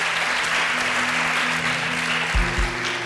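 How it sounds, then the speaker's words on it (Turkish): Studio audience claps steadily through a Turkish television illusionist show as guests are called forward, with a few louder thumps near the end and a faint tonal hum underneath. "Alkışlarla."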